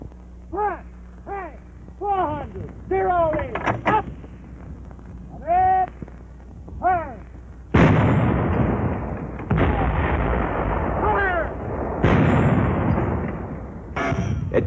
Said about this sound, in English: But the 57 millimeter is an even tougher anti-tank gun.